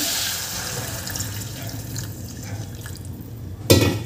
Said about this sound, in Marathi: इथे मी पाणी घालत आहे